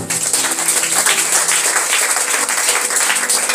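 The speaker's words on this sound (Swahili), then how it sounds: "Piga Yesu makofi." A church congregation at a live deliverance service claps for Jesus in loud, dense applause that carries on steadily throughout.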